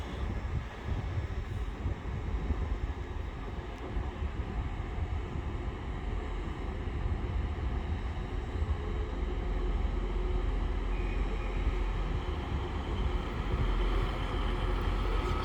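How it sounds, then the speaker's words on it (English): A Trans-Pennine Express train departs Doncaster station on its run from Cleethorpes to Manchester Airport, heard as a steady low diesel rumble with a continuous engine drone that swells slightly toward the end. "So just departing up there now is the Trans-Pennine Express service from Cleethorpes going through to"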